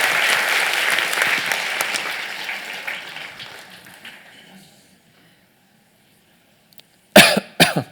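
A theater audience applauds, the clapping tapering off into silence, then a performer on stage coughs twice, loud and close.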